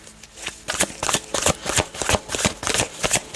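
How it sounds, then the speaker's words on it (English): A deck of tarot cards riffled and shuffled by hand, close and brisk, a rhythmic run of papery flutters and snaps with no speech. "These cards don't want to come out."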